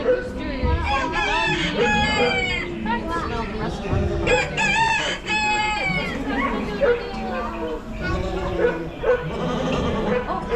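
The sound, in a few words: chickens and roosters crowing and clucking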